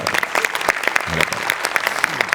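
Audience applause in a Marathi comedy show studio: dense, steady clapping from a crowd, loud and close, lasting the whole stretch without letup.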